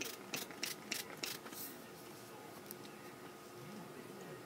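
Several quick, hissing bursts of Mario Badescu setting spray puff in close succession, followed by quieter background rustling.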